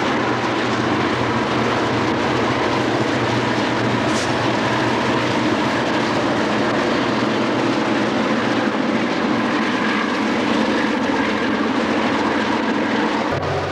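Delaware & Hudson freight train NE-87 passing through Thompson, a continuous rumbling roll with low engine drone and faint wheel clatter, steady and moderately distant throughout, no voices.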